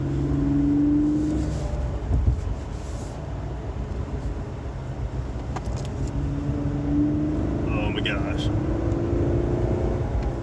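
A 2019 Lexus RC 350 F Sport accelerates in Sport Plus mode, its engine note rising in a steady drone heard from inside the cabin, with a person exclaiming briefly over it.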